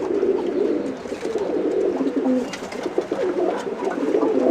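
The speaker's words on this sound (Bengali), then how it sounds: "সিলভার মশালদম গ্লোবার মশালদম" Silver and glober moshaldom pigeons coo in low, rolling throaty calls that overlap continuously, close by amid a busy pigeon loft or market.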